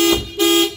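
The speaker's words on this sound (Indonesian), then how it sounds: "Alarm akan berbunyi karena remote-nya" A Daihatsu Xenia's car alarm blares in two loud, steady electronic tones close by, one burst after another with a short dip between.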